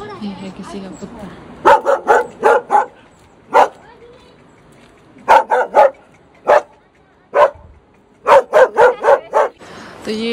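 A dog barks in several quick bursts of three or four sharp, loud, close barks separated by pauses, with some yips among them and faint background noise between.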